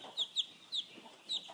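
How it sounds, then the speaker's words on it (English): Week-old broiler chicks in a brooder give four or five short, high peeping calls at an uneven pace, close and clear over a quiet background, with no talking. "there's a brooder right over there, and it's full of these little fellers. And this is a broiler chicken."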